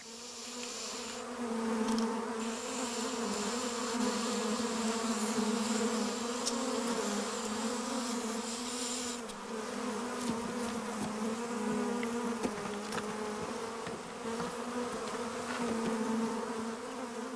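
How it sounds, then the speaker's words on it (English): A dense, steady drone of a honeybee swarm being shaken into a box, continuous and close, with a low hum and shifting higher whines throughout. "At first, the bees seem to tolerate being shaken into the box."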